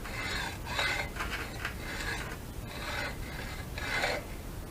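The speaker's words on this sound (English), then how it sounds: "Just to make a mark." Scratching a mark into an aluminum trolling motor shaft on a Haswing Cayman: repeated close, rasping strokes, about five or six evenly paced scrapes in a steady back-and-forth rhythm, heard alone without any voice.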